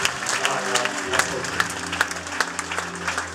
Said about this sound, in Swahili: Angalia Yesu kwa makofi